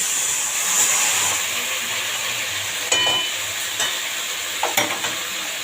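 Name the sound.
spiced kechki fish frying in a pan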